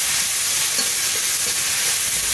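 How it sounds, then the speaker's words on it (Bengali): Ground paste of radhuni, cumin and chili stirred as it fries in a wok over a village kitchen fire, a steady close hiss and sizzle with soft scraping stirs running through the whole stretch, no talking. "এই মশলাটা একটু কড়াইতে হালকা নেড়ে নেব।"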